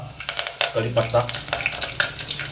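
Curry leaves hit hot oil with a crackling sizzle and quick spitting pops that stay close and lively through the moment.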